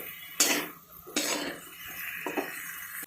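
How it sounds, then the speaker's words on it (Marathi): Metal utensil scraping and clanking in a pan as stuffed eggplant with masala is stirred and sautéed, a few sharp strikes spaced across a quiet kitchen background. "छान असं आपण परतून घेणार आहोत."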